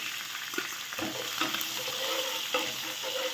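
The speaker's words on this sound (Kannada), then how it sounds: "ಕರಿಬೇವು ಹಾಕ್ತೀನಿ ರೀ, ಸಣ್ಣ ಕುಟ್ಟಿದ ಬೆಳ್ಳುಳ್ಳಿ ಹಾಕ್ತೀನಿ ರೀ." Curry leaves and crushed garlic sizzle steadily in hot oil for North Karnataka style stuffed brinjal, a continuous close frying hiss with faint stirring taps and no voices.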